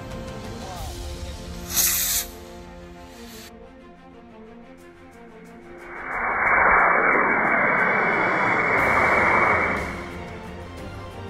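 TLC SmartTech model rocket motor igniting after the countdown, heard as a rising, roaring whoosh that swells over several seconds and then fades, fairly distant, with radio-like chatter before it.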